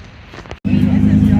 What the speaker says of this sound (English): Also have a Huracan just showed up. He's trying to park right here.